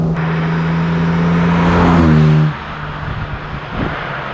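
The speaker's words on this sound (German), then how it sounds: "Hat auch einen sehr schönen Sound, der Wagen." A 1955 Jaguar XK 140 DHC engine runs loud and close with a steady droning hum, then drops abruptly to a lower, rougher idle near the end.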